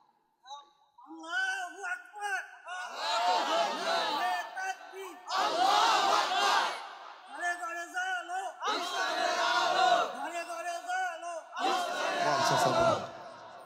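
A large crowd at an Islamic sermon gathering roars takbir in unison, four long, loud swelling shouts in steady succession, each answering a leader's call, with brief pauses between them.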